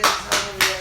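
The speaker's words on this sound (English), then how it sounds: "Man, he was clapping like a seal," A man claps his hands three times in slow, evenly spaced sharp bursts, loud and close, with a short decaying ring after each clap and no talking.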